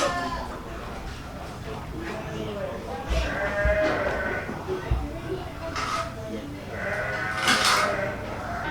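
Sheep and goats bleat at a breeding farm, several calls spread across the clip with a louder call near the end, over steady barn background noise.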